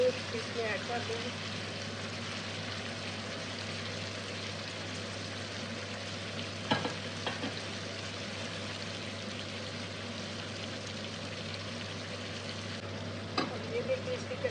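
Mutton chops fry in masala in a pan with a steady, continuous sizzle close by, broken by a few sharp stirring clanks along the way; a low constant hum runs beneath.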